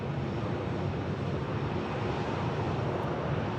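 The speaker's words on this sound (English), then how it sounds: "now we got ourselves a CRJ 200 charter" A SkyWest CRJ 200 charter jet gives off a steady, broad roar that holds even throughout, heard from a distance at an airport with wind noise mixed in.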